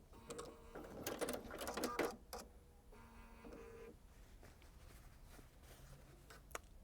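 A sewing machine stitches a seam on a quilt block in two quick bursts of rapid mechanical whirring, with a short pause between them, before falling quiet.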